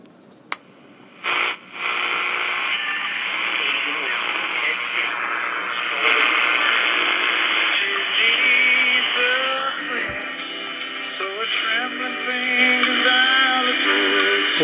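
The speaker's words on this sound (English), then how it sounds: "As you can hear, this one also has a somewhat rattly speaker." A 1959 Zenith Royal 500E transistor radio plays broadcast audio through a rattly speaker, sounding steady and moderately loud after a brief quiet start, with a voice and music-like tones carried on the broadcast.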